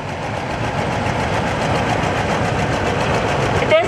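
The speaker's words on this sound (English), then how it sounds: "Here we have a John Deere made in the USA." A 1951 John Deere AR tractor idles at an antique tractor parade, its steady chugging engine loud and continuous with a brief squeak near the end.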